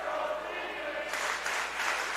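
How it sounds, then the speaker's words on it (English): An indoor crowd at a high school girls' state swimming finals in Iowa lets out a bright surge of cheering and clapping partway through, rising over a background of echoing murmur and voices. "Got the crowd cheering for Phoenix over there."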